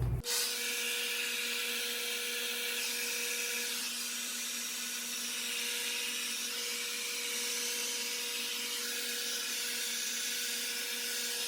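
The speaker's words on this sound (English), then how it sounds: "I actually turn my hair dryer up to high heat and I dry the rest of my hair on high" A hair dryer running on high heat to dry curly hair, a steady loud whooshing blow that holds nearly constant throughout with no talking.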